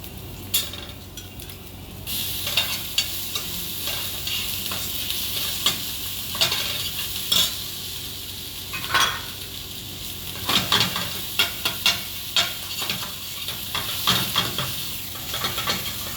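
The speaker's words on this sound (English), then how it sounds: "We'll saute it" Ginger garlic paste sizzles steadily in a hot pan while a spoon stirs and scrapes against the metal in repeated clinks, close and clear with no talking.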